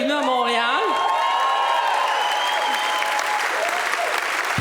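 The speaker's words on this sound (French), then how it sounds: "vous avez pas mal applaudi Bruno Marchand" Gala audience applauding at the Lauriers de la gastronomie awards in Montréal: a dense, steady wash of clapping fills the room from start to finish, with a brief voice at the very beginning.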